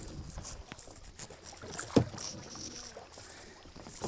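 A rowing boat moves across water with splashing and lapping sounds, steady paddling noise and light wind, close by and moderately loud, with no clear talking.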